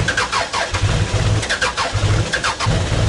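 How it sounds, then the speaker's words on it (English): A car engine being cranked to start, a loud rhythmic chugging of the starter in regular pulses about half a second apart, close up and with no talk. "Go ahead and turn the engine over and do it for just a little bit."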